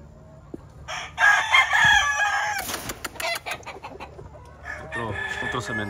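A Caballo de guerra gamefowl rooster penned with a white hen at a gamefarm, crowing loudly up close, followed by scattered clucks, scratching and another shorter crow.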